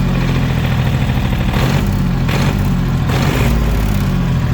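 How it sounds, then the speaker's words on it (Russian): Yanmar AF224 Japanese mini tractor with a half cab, its engine running loud and close at a steady idle with a slight uneven throb, heard alone. "Соответственно, трактор работает"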